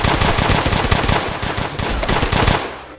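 Rapid automatic gunfire in the video game MiniWorld, a dense stream of loud sharp shots in continuous bursts, fading out at the end.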